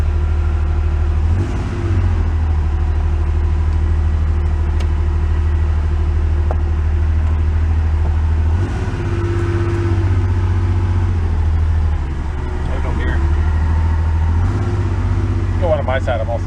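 A flood-damaged Porsche 911 engine runs steadily up close, a loud low rumble that swells in revs around a few points, with people talking over it.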